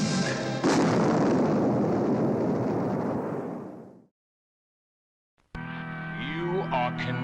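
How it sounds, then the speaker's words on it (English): A laser blast effect in a science-fiction film trailer: a loud sustained blast roaring for about four seconds, fading to silence, then a burst of music and voices returning. "Laser blast."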